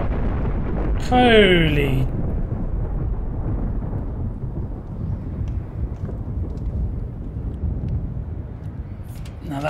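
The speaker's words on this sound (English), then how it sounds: "Oh wow, a bombing run." Deep rumbling explosions from a bombing run in Black Mesa roll on as a sustained low roar. A man exclaims briefly over the blasts.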